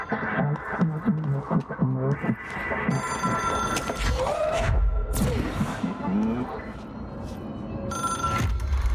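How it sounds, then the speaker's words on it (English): Telephone ringing in the video game Control, an object-of-power phone giving repeated electronic bell rings, loud and close, with game sounds and other noises layered around it. "is a phone. It's an object of power. It doesn't connect to any typical network."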